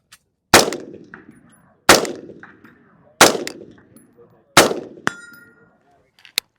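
Four loud, evenly spaced gunshots at an outdoor shooting range, each a sharp close crack followed by a short rolling echo, with a faint metallic ring and small clicks after the last.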